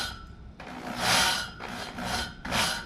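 Repeated gritty rasping strokes as a drill spins a reel mower's reel in reverse for backlapping, a harsh grinding scrape swelling and fading in three or four passes, with a steady high whine underneath.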